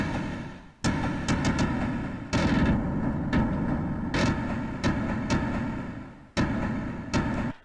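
A spaceship game's explosion sound effect fires repeatedly, a series of sharp booming blasts like heavy gunfire, each with a rumbling tail, loud and close with no talking.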